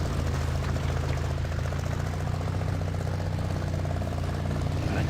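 A Chevy Blazer engine idles steadily in low range in Spintires Mudrunner, a continuous low rumble with no change in pace.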